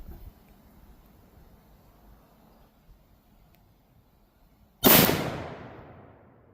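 .454 Casull revolver firing a 160-grain Tac-XP hollow point load, one sharp, loud, close report after a quiet stretch, with a short echoing decay.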